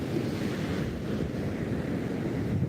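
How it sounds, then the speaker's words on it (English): Steady wind buffeting the microphone over a low roar of surf at an empty beach, continuous and moderately loud with no voices. "Hopefully this wind won't be making all the noises. And yes, I'm at the beach right now"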